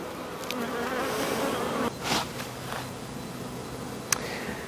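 Honeybees buzz around an open beehive, a steady close droning hum with a few sharper clicks and knocks from handling frames, no talk.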